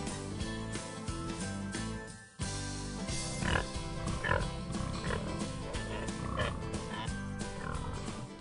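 Berkshire pigs on a farm grunt and snort repeatedly nearby, in a steady layered chorus of low, croaky calls.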